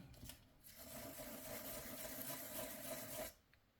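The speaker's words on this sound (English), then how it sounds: "what happens if we use a sandpaper on here?" Sandpaper rubbed lightly over dried texture paste coated with acrylic paint, a single soft continuous scratching stroke lasting about three seconds, close and quiet, with no talk.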